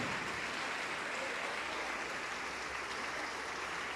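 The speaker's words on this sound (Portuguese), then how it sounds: "Vamos aplaudir mais, igreja, vamos aplaudir mais." Sustained applause from a church congregation, steady and dense, with many hands clapping together for several seconds.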